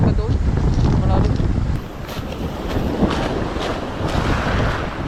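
Strong wind roars and buffets the microphone at a shoreline fishing spot during lure fishing, with a steady, loud, gusting rush throughout.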